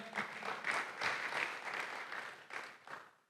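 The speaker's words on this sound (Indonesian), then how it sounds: "Beri tepuk tangan buat nama Tuhan." A church congregation at a Sunday service applauds in a short, moderately loud burst of clapping that fades away within a few seconds.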